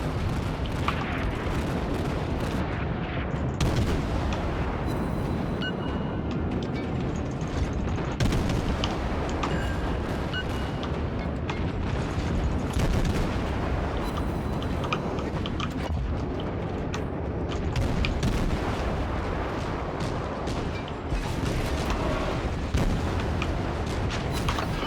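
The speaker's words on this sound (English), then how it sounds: "Here comes a boatload of torpedoes your way." Naval battle in the World of Warships video game, with dense repeated booms of ship gunfire and explosions sounding back to back at full loudness throughout.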